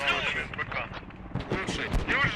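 A T-90 tank fires a round into a Leopard tank's ammo rack in the Squad video game, producing loud booming gunfire and explosive bursts layered with ongoing voice chatter.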